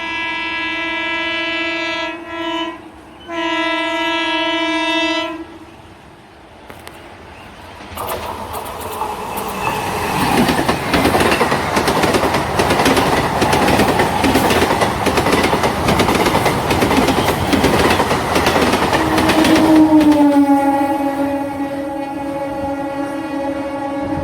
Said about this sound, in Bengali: আর ওদিক থেকে একটা লোকাল ট্রেন আসছে